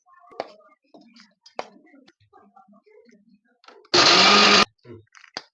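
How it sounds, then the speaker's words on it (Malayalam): A kitchen mixer grinder whirs in one short loud burst as it grinds broken jaggery, set among faint clicks and handling noises. "ഇനി നമുക്കിത് മിക്സിയിൽ ഇട്ടിട്ട് കറക്കി എടുക്കാം"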